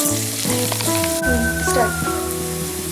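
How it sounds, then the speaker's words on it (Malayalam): Spicy soya chilli being sautéed in a pan gives a steady, close sizzle and crackle throughout, running under background music. "ഒരു 3-4 മിനിറ്റ് ഒന്നിനെ വഴറ്റി"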